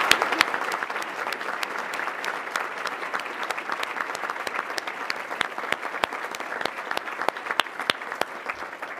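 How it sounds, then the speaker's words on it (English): A large audience applauds students and apprentices at a formal public address, steady dense clapping filling the whole stretch without pause. "And I think we should give them a round of applause."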